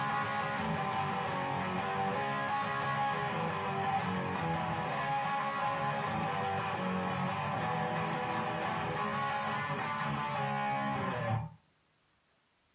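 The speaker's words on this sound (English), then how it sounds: "the same chords, but played in a different rhythm and strumming pattern" Chorus chords strummed on a guitar with a new strumming pattern, a dense, loud, distorted-sounding wash held for about eleven seconds before cutting off abruptly into near silence.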